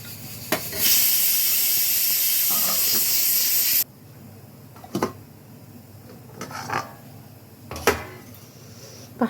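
A pot of curry boils with a loud, steady hiss for a few seconds, then settles into quieter, scattered bubbling and popping.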